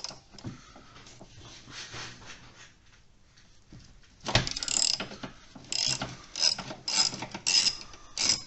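Ratcheting wrench tightening nuts on the front shock absorber of a 2010 Honda CR-V 2.2L diesel, a quiet stretch followed by a run of close, crisp clicking bursts in a rough rhythm.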